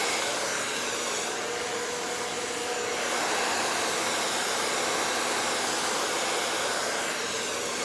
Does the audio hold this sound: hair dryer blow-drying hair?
yes